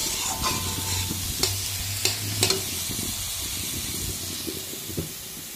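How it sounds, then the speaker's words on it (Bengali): Red amaranth greens (lal shak) cooking in a pan give off a steady soft sizzle and hiss, punctuated by a few sharp clinks and scrapes of stirring, close and continuous throughout. "আর এখানে তখন লাল শাকটাও বসিয়ে দিয়েছি।"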